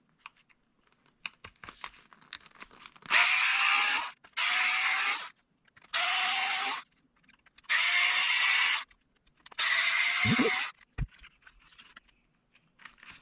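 A powered driver backs screws out of an overdrive pedal that is being taken apart, in five separate whirring bursts of about a second each. Each burst rises in pitch, with quiet handling clicks in between.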